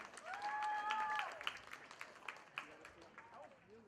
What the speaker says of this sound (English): Please everyone give them a really big round of applause.